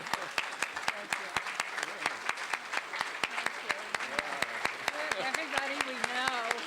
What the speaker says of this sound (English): Let's stand up and give our honorees a big round of applause.